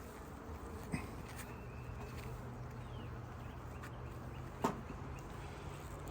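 Honeybees buzz around an open hive during an inspection, a soft continuous drone with a couple of sharp clicks or knocks close by.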